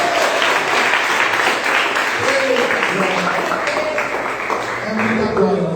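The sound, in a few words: church congregation applauding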